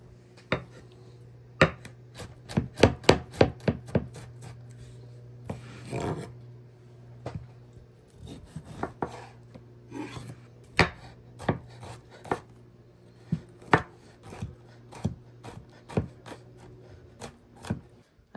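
A knife finely chops bitter gourd on a board, with sharp, close strikes coming in quick bursts and then slower, irregular cuts.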